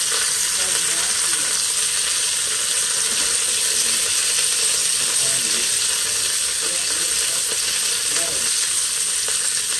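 Chunks of meat browning in the hot pot of an Instant Pot give a steady, close, dense sizzle and fry with no letup, with faint clicks and scraping at the edges and no talk.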